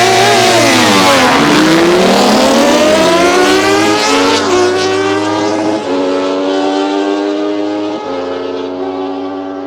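A 200HP Yamaha R1-engined superquad, a 570HP McLaren and a 125HP GSXR launching in a drag race, engines screaming as they rev up through rising gear changes, loud and close at first, then fading as they pull away.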